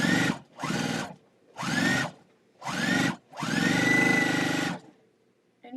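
A home sewing machine stitches fabric in five separate runs, each a loud, close whirring burst that rises in pitch as it speeds up. The last run is the longest, and short pauses fall between the runs.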